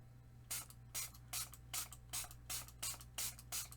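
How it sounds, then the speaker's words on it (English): A water spray bottle mists the edges of a sheet of purple paper, eight or nine short hissing spritzes in a steady rhythm, close and fairly quiet, with no talking. "let's take a purple piece of paper and our water spray and spray the edges"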